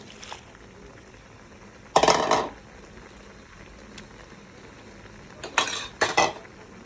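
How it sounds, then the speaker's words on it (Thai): Utensil scrapes and clanks in a pan while crab curry with chili, spring onion and onion is stirred, two short bursts of metallic scraping around two and six seconds against a quiet kitchen background. "แล้วก็คนคนคน แล้วก็จะมีพริกต้นหอม หอมใหญ่ใส่ลงไปเลย"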